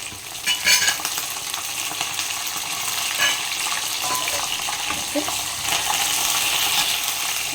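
Curry leaves going into a hot pan of oil with onion and green chilli while making Bambino vermicelli upma, giving a steady broad sizzle and frying crackle with a few louder spits, close and continuous, no talking.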